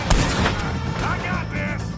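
Gunfire from a shootout with O'Driscolls in Red Dead Redemption 2 sounds as sharp shots near the start and then scattered reports, mixed under shouting voices.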